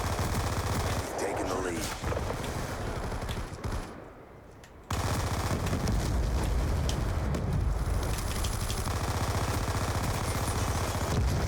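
Dense automatic gunfire in Black Ops 2 multiplayer, a video game: loud, continuous rapid bursts with explosions mixed into the battle noise, and a brief drop in intensity partway through before the firing resumes.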